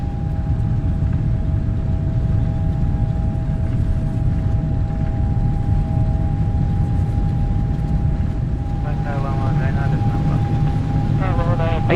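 EVA Air Boeing 777 engines held at takeoff thrust in MSFS 2020, a loud steady roar under a constant tonal whine, with short cockpit voices toward the end.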